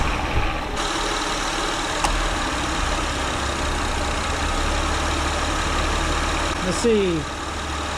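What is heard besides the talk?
Acura TL 3.2 VTEC engine idling after alternator replacement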